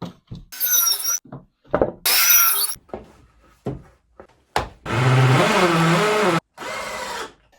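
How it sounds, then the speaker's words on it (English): A table saw cross-cuts wood on a cross-cut sled, giving several loud bursts of whining, buzzing cut noise separated by short gaps and clunks, with a longer sustained cut near the end. "Final thing to do, cross-cut, so using the cross-cut sled."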